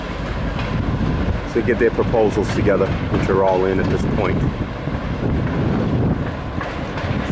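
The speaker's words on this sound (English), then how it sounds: "The train going by." A train rumbles past with rhythmic clatter near a rooftop where roofing work is under way on a mill building, heard under someone speaking throughout, with wind buffeting the microphone.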